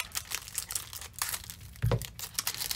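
A plastic bag from a diamond painting haul snipped open with scissors, close crinkling and rustling throughout with one louder crunch near the end.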